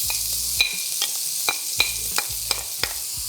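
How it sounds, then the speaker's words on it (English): Carrots, celery, onion, garlic and ginger sauté in oil in a pot with a soft continuous sizzle, broken by regular sharp clicks of a spoon stirring against the pot about every half second, close and alone. "And I'm going to saute this for about 3 minutes."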